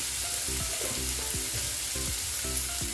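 Chopped onions with a pinch of salt sautéing in a pan, stirred at an even pace: a continuous close sizzle with regular scraping and tapping strokes of a spatula against the pan.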